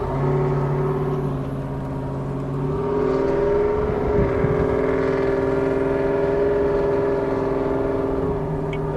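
A Texas Speed supercharged Chevrolet Silverado pulls along a street with a loud steady engine drone whose pitch climbs, dips through a smooth gearshift and climbs again, all heard from inside the cab.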